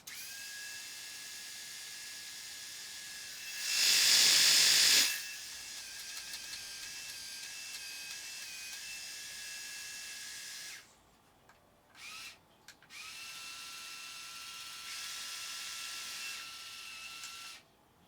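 A MicroTouch Titanium head shaver running alone, a loud, steady high-pitched electric whine held for several seconds, with a short stop and restart partway through.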